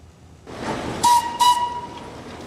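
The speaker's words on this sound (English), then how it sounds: "the Darjeeling Railway still runs on a small stretch between Darjeeling and Goom" A Darjeeling Himalayan Railway train running on the hill line between Darjeeling and Ghum, a low rumble of the train rising, then two short shrill whistle blasts with steam hiss, moderately near, no talk.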